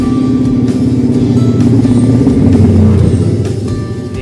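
Yamaha Mio scooter engine running rough, with a suspected fault after carburetor checks; a loud, steady close-up idle drone that swells slightly midway, with no talk.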